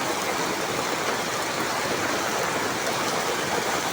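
Heavy typhoon rain pours steadily in a flooded street, a dense, even roar of water that fills the whole scene without letting up, with no voices over it.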